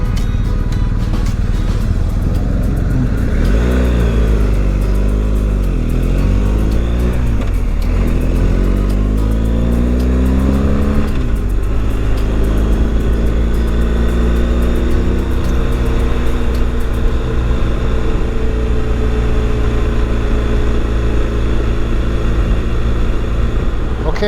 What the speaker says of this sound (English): Let's wait till these cars go.